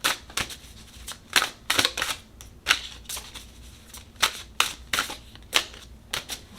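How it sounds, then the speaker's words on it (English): Tarot cards are shuffled close by in quick, irregular bursts of crisp riffling and slapping, each flurry followed by a short pause, with no voices. "Just allow me a quick moment to shuffle."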